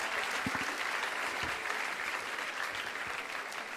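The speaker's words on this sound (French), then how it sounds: "On l'applaudit" Audience applause at a church gathering, a steady wash of many hands clapping throughout with a few sharper low thumps, no voices standing out.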